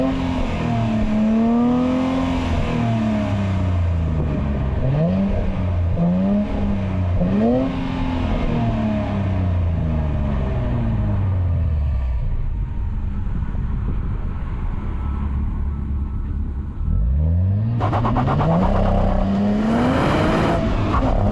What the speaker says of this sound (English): let's go ahead and fire it up. You can hear how this engine sounds real quick.